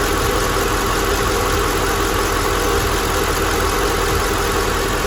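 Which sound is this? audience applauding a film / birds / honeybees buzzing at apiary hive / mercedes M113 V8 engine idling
mercedes M113 V8 engine idling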